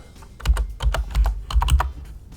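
Keys clatter on a computer keyboard in short bursts of rapid typing, close and clear, with brief pauses between groups of strokes.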